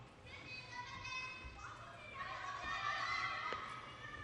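Japanese spectators cheer and shout encouragement at a WTT Champions Yokohama table tennis match, a lively crowd din of voices with high calls rising through the clip.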